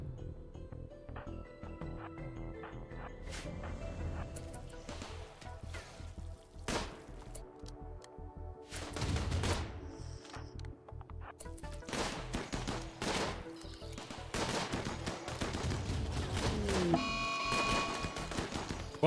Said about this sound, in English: get out of the way before the friendly fire starts.